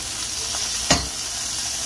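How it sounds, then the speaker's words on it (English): Birria tacos browning in oil in a pan, a steady close sizzle with one brief louder crackle near the middle, heard alone without talk. "We're just gonna brown this side, and it'll be good to go."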